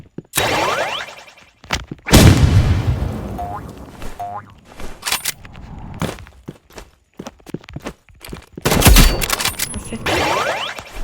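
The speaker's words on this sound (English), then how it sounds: "I'm gonna practice, do a nade jump, and then like fist jump, then daggers jump, then sniper snipe." Weapon effects from the shooter game Rivals, including a grenade jump explosion, come in sharp bursts with ringing metallic dings, clangs and whooshes, separated by brief quiet gaps.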